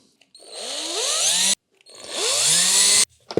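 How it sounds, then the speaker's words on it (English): A cordless drill driver runs in two sustained bursts, each spinning up in pitch as it drives small screws into an RC truck cover, separated by a short pause, loud and close. "I use the drill driver to put those screws in most of the way"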